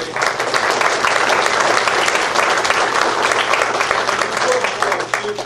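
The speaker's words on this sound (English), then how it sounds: "let's give Phil and Julie a clap." A crowd applauds steadily for several seconds, dense clapping at a constant loudness that tapers slightly at the end.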